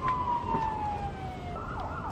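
A wailing emergency siren sweeps downward then rises again over steady traffic rumble, moderately close.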